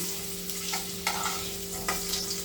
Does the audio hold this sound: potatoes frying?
yes